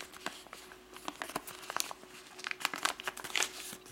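White computer paper crinkles and creases as it is folded into an origami gannet, soft close rustles and sharp crackles in irregular bursts, fairly quiet with no voices.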